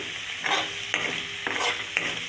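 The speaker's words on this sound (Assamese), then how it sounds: "কণী আৰু পিঁয়াজে গুড়া কৰি ভাজিছোঁ" Egg and onion fry in a pan, an even sizzle broken by four spatula scrapes at roughly half-second intervals, close up and alone with no voices.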